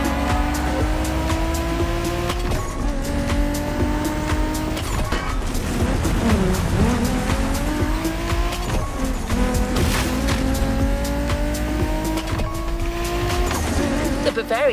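A BMW Z4 M40i roadster driving in The Crew Motorfest, engine droning loudly and steadily with rising and falling revs and gear shifts, tire squeal here and there, and a voice talking over it.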